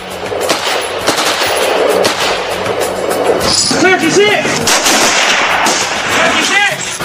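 Gunfire at a military shooting drill, with rapid bursts of shots under steady outdoor noise and commotion throughout.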